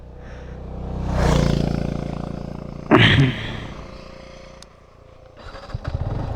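A Yamaha MT15 v2 sports naked motorcycle starts: a rising rev, a sharp burst as it fires, then a lower idle that picks up again near the end, heard close.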